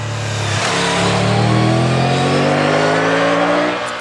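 Engine of a Triumph Tiger 1200 motorcycle revving up under acceleration, a loud, steady rising drone that swells and fades slightly at the end, with no talk over it.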